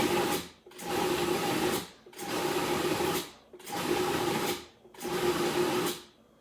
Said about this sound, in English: I'm taking about half the sausage, and I'm gonna pulverize that, make it small pieces